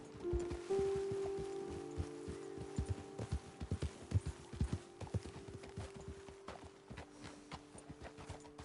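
Horse hooves clip-clop in the video game Red Dead Redemption 2 as a steady run of close, distinct footfalls that slows and fades toward the end. A faint tonal hum runs underneath.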